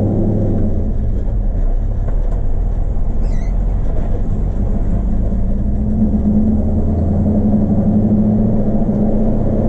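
A 1952 Ford F1 truck's engine drones steadily as it drives down a road, a loud, constant low rumble with road noise and no talk.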